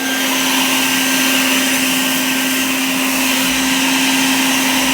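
A loud vacuum runs steadily and close as it sucks sand out of a pool filter tank, with a constant roaring whine and a steady hum that stays even for the whole stretch, no voices.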